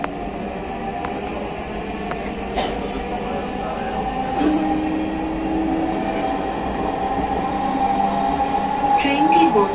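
A Dhaka metro rail train runs between stations, its steady close rumble and rail hum continuous throughout, with faint wheel squeals rising toward the end and brief announcement voices over it.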